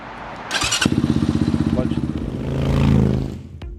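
A KOVI 300 Lite F motorcycle engine cranks over and starts after a quick burst, then settles into a steady, rhythmic idle with a slight rise in revs before cutting off; loud and close.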